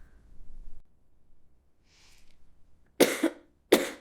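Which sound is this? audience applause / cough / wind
cough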